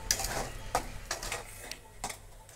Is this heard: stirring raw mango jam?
yes